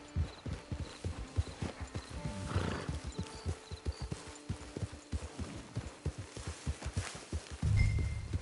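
In the video game Red Dead Redemption II, steady rhythmic clip-clop of horse hooves walking at an even pace over ambient background, with a faint snort or whinny partway through.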